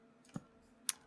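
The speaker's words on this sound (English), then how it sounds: "That's me right-clicking on him." Two quiet, crisp clicks about half a second apart, Minecraft right-clicks on a dog in a Hermitcraft let's play, over faint background hum.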